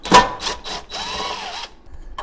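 Cordless power tool spinning out screws on an old, abandoned lawn mower: a sharp burst, a few short whirs, then a longer steady whine lasting under a second before stopping, close and fairly loud.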